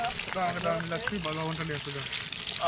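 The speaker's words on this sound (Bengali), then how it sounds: "আলু ভাজা চলছে এখানে" Potatoes frying in a pan in an outdoor picnic kitchen, giving a steady, even sizzle that runs beneath a person talking close by.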